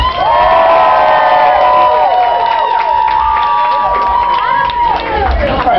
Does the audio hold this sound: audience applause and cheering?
yes